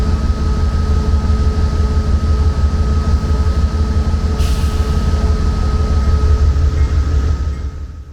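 Amtrak train standing at Albany-Rensselaer station while locomotives are swapped, a loud steady diesel idle rumble with a low drone and a constant tone, a brief hiss of air partway through, continuous and close.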